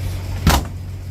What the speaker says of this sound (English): So nice these doors close, watch this.